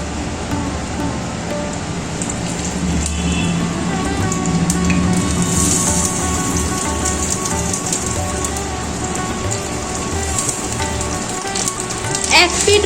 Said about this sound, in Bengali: সাদা তেলটা গরম হয়ে গেছে, এবার একটা একটা করে পাতুরি দিয়ে দিচ্ছি ভাজার জন্য।